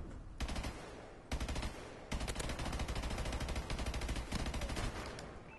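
Bursts of rapid sniper and automatic gunfire from a video game crackle loudly in repeated volleys, close and dense, with brief pauses between strings of shots.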